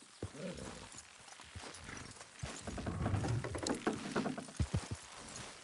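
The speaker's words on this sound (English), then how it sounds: "Horses will pull it clean down." Horses' hooves clip-clop and scuffle while pulling in the Red Dead Redemption 2 video game, with a brief whinny and faint, uneven straining sounds building toward the end.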